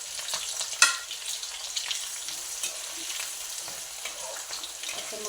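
Green chillies go into a pan of softened garlic frying in hot oil, giving a steady close sizzle with faint stirring scrapes and a small clink near the start. No voices.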